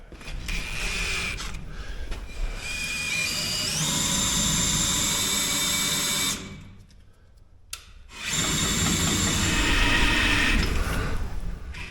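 A power drill whirs steadily at slow speed, spinning a Dana 60 axle ring gear while the gears grind, stopping briefly partway, then spinning up again for several more seconds.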